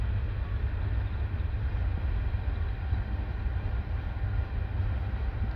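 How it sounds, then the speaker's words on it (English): An empty CP coal train rolls past near Kamloops Lake, a steady dense rumble of wagons on rails that stays loud and even throughout, with no voices. "And this is the coal train."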